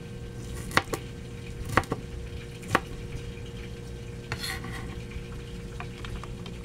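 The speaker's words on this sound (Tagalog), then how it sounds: "hiwain ko na po ito habang nagpiprito po ako ng isda" A knife chops vegetables on a cutting board a few times with sharp, irregular knocks. A steady hiss of grouper frying continues quietly underneath.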